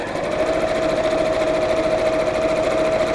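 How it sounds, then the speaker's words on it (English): A sewing machine stitching fabric, running steadily at a fast even hum with a constant whine throughout, close and moderately loud, no voices. "I'm just using the edge of my sewing machine foot as a guide."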